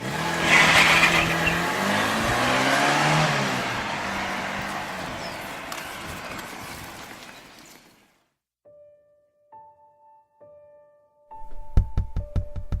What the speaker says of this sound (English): Then Bo started his car with the keys that were in his jean pocket and pulled out into the highway.